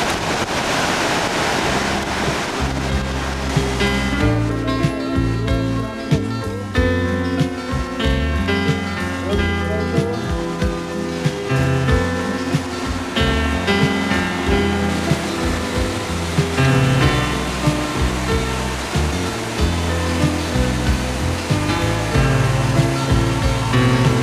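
Water pours over Niagara Falls in a loud, continuous roaring rush heard from a bridge, with wind buffeting the microphone throughout and no pauses.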